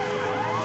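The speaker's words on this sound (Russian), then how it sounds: "Едет пожарная машина" A fire engine's wailing siren sounds on a city street during a march in Zaporizhzhia in 2014, a loud, steady tone rising slightly as the truck approaches.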